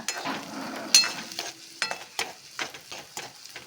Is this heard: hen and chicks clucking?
no